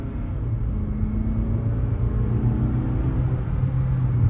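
A 2024 Mazda CX-50 engine hums while driving on the road, a steady low rumble with mild tire and wind noise, no voices over it.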